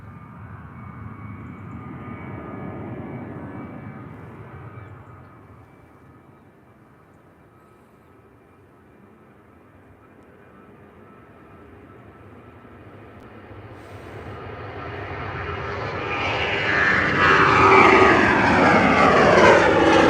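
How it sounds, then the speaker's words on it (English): A Ryanair Boeing 737-800 jet takes off at an airport, its engine roar rising from a distant rumble to a loud, close, building thrust with no talk over it. "Ryanair 737-800 off to Sophia."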